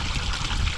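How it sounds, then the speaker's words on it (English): Cold, clear spring water trickles and splashes steadily in a continuous close, fairly loud wash with no talk. "That water, that's about as cold and as clear and as fresh as you can possibly get right there"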